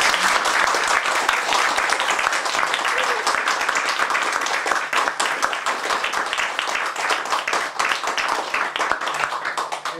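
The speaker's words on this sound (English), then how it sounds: "So you can clap now." Sustained applause from a lecture audience after a talk on the Starchild Skull, dense steady clapping filling the room for the full ten seconds, easing slightly toward the end.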